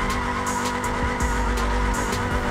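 A car in the BeamNG Drive driving game skids sideways after a hard handbrake pull, giving a loud, continuous tire squeal over a steady engine drone, with a few short bursts of screech and no talking.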